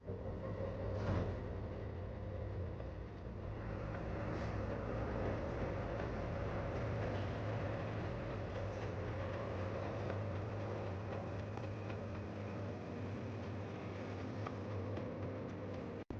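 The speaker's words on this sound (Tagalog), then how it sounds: "Heto, tingnan mo, narito ang katambal nating tren, Amtrak 68." An Amtrak passenger train rolling along the rails on the Adirondack route, a steady, muffled rumble that holds evenly throughout, as if heard from inside or near the train, with no speech.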